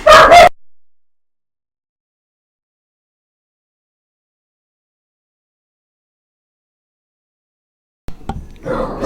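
Dogs barking and yipping in short bursts, loud and close, at the very start, then silence until a brief noisy stretch returns at the end.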